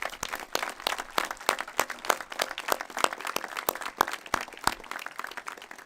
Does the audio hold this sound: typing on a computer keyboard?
no